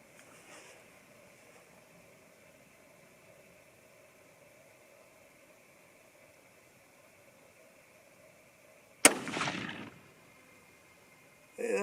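A single sharp 25-06 Remington rifle shot at a target, loud and abrupt with a short echoing tail, after a long stretch of quiet background hum.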